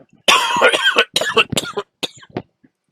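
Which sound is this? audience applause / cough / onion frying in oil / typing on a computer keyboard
cough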